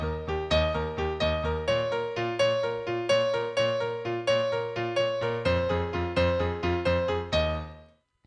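Piano covering a song, with left-hand bass notes and right-hand chords played together as a fast repeating arpeggiated figure. The steady, bright pattern rings alone with no talk and decays at the end.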